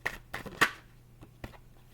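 Tarot cards are shuffled by hand in a few quick riffling bursts, close and crisp, with short pauses between them and no speech.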